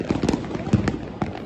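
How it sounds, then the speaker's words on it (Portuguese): Gunshots fired into the air in Rio de Janeiro's Chapadão complex during a New Year's celebration: several sharp, loud cracks spaced irregularly across a noisy outdoor background, with faint voices around. "Disparos para o alto que fazem vítimas quando menos se espera."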